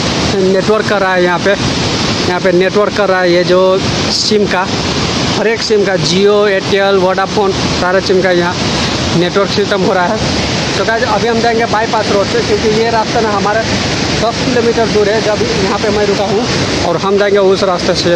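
Rushing river water roars steadily near a dam in the mountains around Guptkashi, a loud, continuous broadband wash beneath someone talking throughout.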